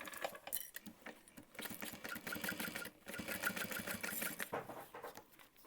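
A home sewing machine bastes layers of a backpack, its fast, close, rhythmic needle chatter running in steady bursts with short pauses between them.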